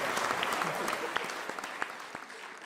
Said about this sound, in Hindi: एक बार जब मिलके तालियां बजाएं